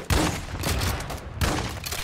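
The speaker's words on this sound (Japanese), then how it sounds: "なんでこんな近距離でスナイパー撃たなあかんねん" Two heavy sniper rifle shots fired at close range in Call of Duty DMZ, each a loud booming blast with a dense rumbling tail, spaced just over a second apart.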